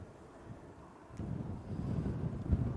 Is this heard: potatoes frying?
no